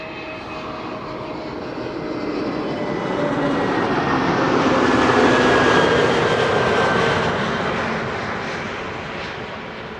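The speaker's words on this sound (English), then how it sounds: "It is an Airbus. It is it's play 460, arriving from Reykjavik, Iceland." An Airbus airliner landing at Schiphol airport, arriving from Reykjavik, its engine roar steady and broadband, swelling louder as it passes overhead mid-way and then easing off, with no voices.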